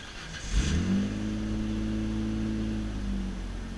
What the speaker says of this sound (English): Ideally, a cold start is the best way for checking an engine.